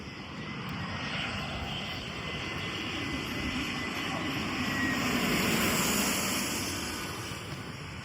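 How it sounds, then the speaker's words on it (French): A fixed-wing airplane landing on a runway on Saint Martin roars with a broad, steady engine rumble that swells slightly as it passes nearby, with no talk over it. "il y a un avion qui va atterrir juste en face"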